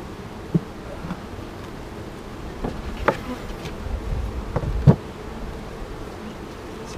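Honeybees buzz steadily around an opened hive during an inspection, a continuous close drone with a few sharper knocks and bumps from handling the frames.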